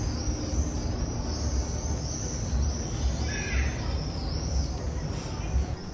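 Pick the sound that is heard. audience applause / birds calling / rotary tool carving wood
birds calling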